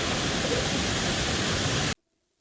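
Cold spring water rushing at Bato Spring Resort in San Pablo, Laguna: a loud, dense, steady hiss of flowing water that cuts off abruptly into silence just before the end.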